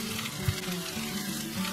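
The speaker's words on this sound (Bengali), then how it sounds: "একটু স্কিলেটে ভাজা করে নিয়ে তারপরে আমি ওভেনে ঢোকাবো আজকে" Chicken pieces frying in oil in a skillet on a gas stove, a steady close sizzle with a few soft bumps and clicks of the pan, no one talking.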